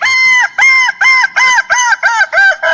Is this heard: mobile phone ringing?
no